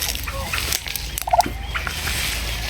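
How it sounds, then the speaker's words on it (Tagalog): A turkey hen gobbles briefly amid steady outdoor background noise, with a short burst of calls partway through, on a farm with her newly hatched chicks following her. "may pabo dito na naglagala-gala sa likod"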